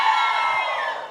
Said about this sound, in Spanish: Un grito, vamos, un grito de las mujeres heroicas sonsonatecas.